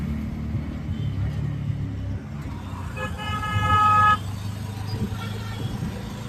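Auto rickshaw ride through traffic on the way home in Dehradun: a constant engine and road rumble, with a sustained, insistent horn blaring nearby partway through and fainter honks afterward.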